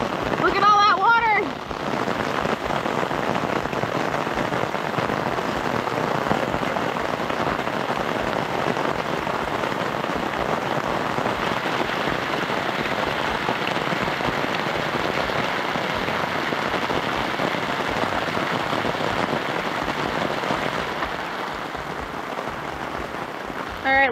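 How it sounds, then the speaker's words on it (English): Heavy rain pounds steadily on plastic sheeting covering a basement build for a cabin, a dense, continuous hiss and patter that stays loud and even for the whole stretch, with no voices over it. "it's definitely getting pummeled with rain"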